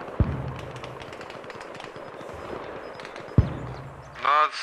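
Gunfire from a friendly Humvee in the Arma Reforger video game: two sharp, distant single shots a few seconds apart, heard under low background rumble and voice chatter.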